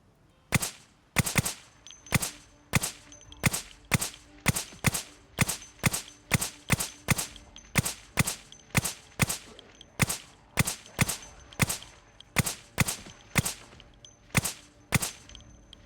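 Gun in Project Zomboid fires sharp, loud single shots at a fairly regular pace, about two dozen cracks in a row, each with a short decaying tail, with no talk over them.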